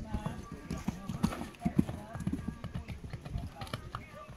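Horse hooves clip-clop in an uneven rhythm during a show jumping riding session, close and moderately loud, with people talking over them at times.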